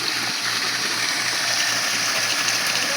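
Strong, steady gush of water from an electric water pump on a farm, loud and continuous with an even rushing hiss throughout and no voices.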